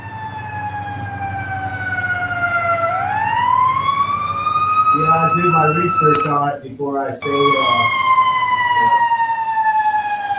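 A wailing ambulance siren sweeps up and down nearby, loud and sustained, while someone talks over it briefly in the middle.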